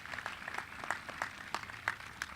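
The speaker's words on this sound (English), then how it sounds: "Give yourself a round of applause." Applause from a graduation audience at a college ceremony, a faint, distant patter of scattered claps over a couple of seconds.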